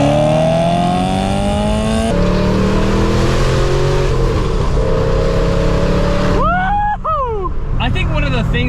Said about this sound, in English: that insanely loud but dynamic exhaust